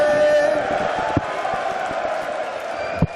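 The home crowd cheers at a darts match in Leverkusen, a dense arena roar with whoops that fades gradually, broken by a couple of sharp dart thuds.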